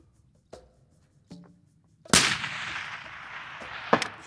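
A long-range rifle shot fired at a rock, one sharp loud crack followed by a long rolling echo, preceded by a few small clicks and handling knocks, outdoors with no talking.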